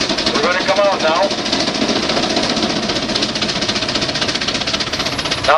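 A steam tractor engine labouring on a torque test at Rollag, Minnesota, its steady loud chugging beat running throughout, continuous and close, under heavy load.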